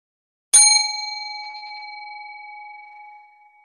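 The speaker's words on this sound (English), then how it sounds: "So I'm going to ring our prayer bell." A prayer bell at an outdoor prayer workshop is struck once, a bright, clear ding that rings alone and fades slowly over a few seconds in near silence.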